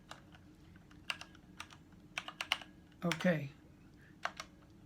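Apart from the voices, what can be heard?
typing a password on a computer keyboard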